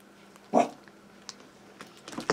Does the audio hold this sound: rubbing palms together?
no